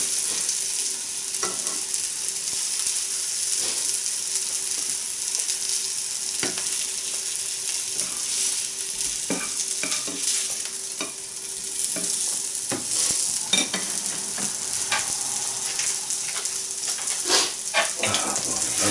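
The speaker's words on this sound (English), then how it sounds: "Like the old sizzling sound." Hash browns sizzle steadily in a frying pan, a constant bright crackle with occasional scraping and stirring clicks, and no one speaking.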